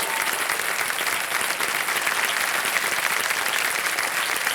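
Studio audience on the KBC quiz show applauding, a dense, even roar of clapping that holds steady throughout without any voices.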